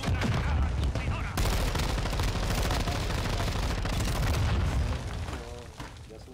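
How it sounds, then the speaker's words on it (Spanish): A grenade goes off in the Warzone 2.0 video game amid a dense, loud stretch of gunfire and booms that fades near the end, with a voice speaking over the top. "Lanzo una granada contenedora."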